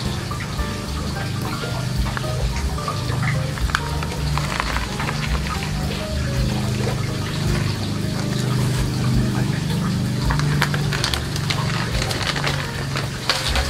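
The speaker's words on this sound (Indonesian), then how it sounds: "Di sini saya siramnya pakai air yang sudah dicampur dengan cairan atau vitamin B1" Water mixed with vitamin B1 is poured over a potted Aglaonema plant, a steady close splashing and trickling that goes on without a break and stays fairly loud throughout.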